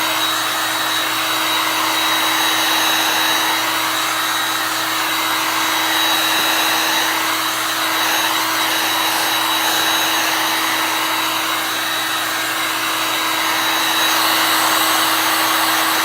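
A heat tool blows hot air steadily to dry chalk paste on a mat during a craft project, giving a constant loud whirring hiss with a fixed high whine that runs unbroken, with no talk.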